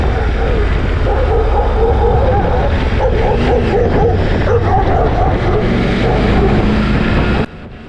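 A dog barks and yips repeatedly over a loud, steady motorcycle engine rumble, close by, with the engine noise dropping off abruptly near the end.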